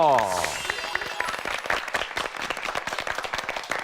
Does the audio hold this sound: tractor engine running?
no